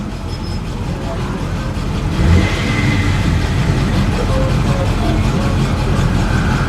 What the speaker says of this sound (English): This truck has never been glass smooth when it runs